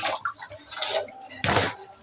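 Water splashes and runs in short bursts while fish are washed and left soaking, close by, with brief sloshing pulses and a stronger gush toward the end.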